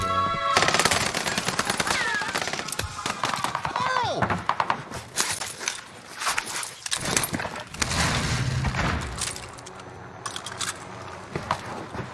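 An H4 Blixen SMG fires in Warzone Rebirth Island with loud close rapid automatic bursts, followed by scattered shots, thuds and game effects as the firing breaks off.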